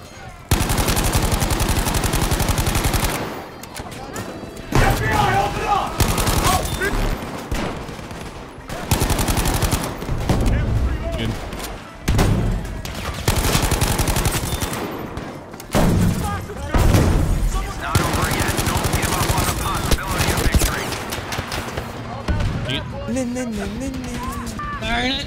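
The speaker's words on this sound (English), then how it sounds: "Just start firing down the hole." Dense, loud gunfire from the video game Battlefield, with rapid automatic bursts and repeated shots firing almost continuously over the whole stretch, mixed with game noise and a talking voice.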